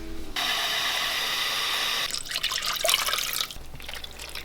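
Two cups of water pour into crazy cake batter in a home kitchen, a steady hissing stream from a tap or jug for about two seconds, followed by splashy sloshing and glugging as the liquid mixes in, close and clear.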